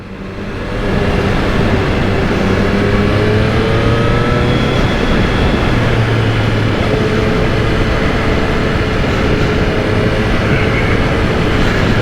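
A Triumph Street Triple R motorcycle rides through busy night traffic, its engine note steady and loud under heavy wind rush, with shifting tones as it accelerates, continuous from start to end.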